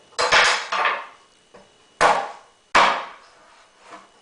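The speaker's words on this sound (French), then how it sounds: "Alors d'abord, on coupe les ailerons." A kitchen knife chopping through raw chicken to remove the wing tips, four or five sharp, knocking blade strikes hitting the board at irregular intervals, close and loud with short quiet gaps between.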